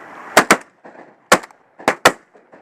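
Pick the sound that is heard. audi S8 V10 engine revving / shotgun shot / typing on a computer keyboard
shotgun shot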